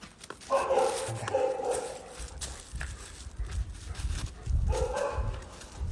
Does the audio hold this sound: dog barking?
yes